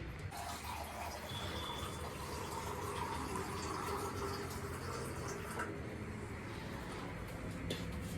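Liquid pouring in a steady gurgling stream as another cup is added in a home kitchen, a soft continuous splash close by.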